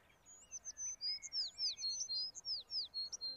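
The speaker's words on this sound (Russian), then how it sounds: "Прислушайтесь, как здесь поют птицы." Small birds sing in the mountains of Uzbekistan: a lively run of bright, rapid chirps and short whistled phrases, repeated many times close by over a quiet outdoor background with no talk.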